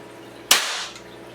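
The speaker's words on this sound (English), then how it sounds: "shot shell cut open, no powder, just primer" A single sharp pop of a shotgun shell primer going off without powder in a cut-open shell, brief and bright, with a short hissing decay in a quiet space.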